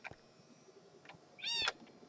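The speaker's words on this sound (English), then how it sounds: "I already like this cat." A cat in the Minecraft video game gives a single bright, rising meow near the end, fairly loud and close against a quiet game background with faint clicks.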